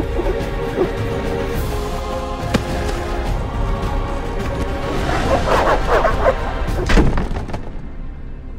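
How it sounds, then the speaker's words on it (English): Dogs bark intermittently in The Witcher video game during an attack on a village gate, the barks sitting under an ominous game score and growing busier and louder toward the end. "These dogs are deadly."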